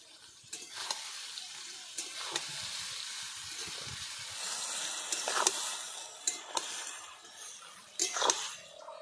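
A ginger, cumin, garlic and dried chilli paste in a hot pan hisses and sizzles as a little water is added for a kochu shaak (taro leaf) and fish head dish. Soft clinks and scrapes of stirring punctuate the steady close frying.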